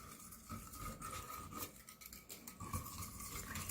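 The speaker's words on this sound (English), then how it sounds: "I just whisk it together" Brine whisked in a bowl for fermented dilly beans: quick, continuous scraping and clinking of a whisk against the bowl, close and fairly quiet, with no talking.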